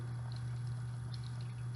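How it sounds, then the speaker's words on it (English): Several thin separate streams of water run steadily and quietly over a low constant hum, with faint trickling and pouring texture throughout. "I see 4 separate streams of water."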